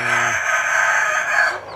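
A fighting rooster crows once, close and loud, in a single sustained call that fills most of the moment and fades near the end.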